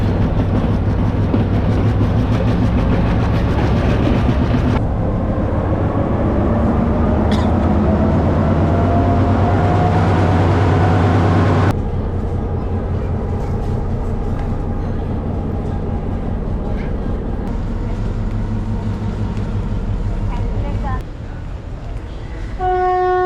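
The Night Mail train from Badulla rolls into Colombo near Maradana station, a loud continuous rumble of wheels and carriages with rhythmic clatter, a brief horn-like tone partway through, and the din easing toward the end.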